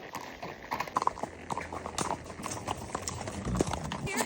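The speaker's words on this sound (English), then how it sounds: "So I'm on a retired racehorse and Sandi Morris aboard Smooth" Hooves of a retired racehorse clip-clop along at Churchill Downs racetrack, a close, uneven walking rhythm of hard strikes with some background noise around it.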